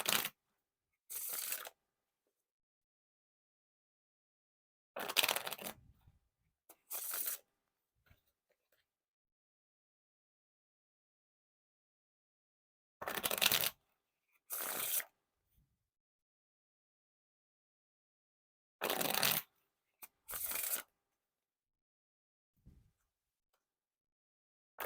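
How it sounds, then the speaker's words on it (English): Several short bursts of riffle shuffling cards, roughly in pairs, each a quick crisp flutter separated by silence. "Now for the riffle shuffle or bridge shuffle."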